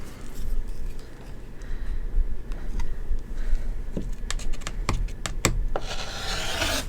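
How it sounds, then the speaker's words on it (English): Fabric for a stitching project is trimmed close up, with a soft continuous rub and rustle of cloth broken by quick crisp snips and clicks of the cutting tool, all near and moderately loud. "I just need to get this fabric trimmed down"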